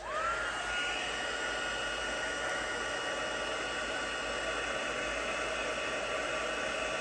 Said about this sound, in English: Now we're just going to heat set this again because this white is a craft ink